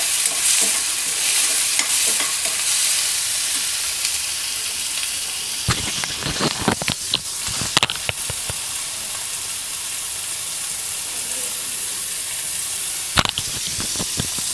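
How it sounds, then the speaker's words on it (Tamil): Onions fry in a pan with a constant loud hiss as the first step of a paneer masala dosa filling. Bursts of quick spatula scrapes come midway and again near the end. "வெங்காயம் பாதி வதங்கினோடனே தக்காளி போட்டுருவோம்."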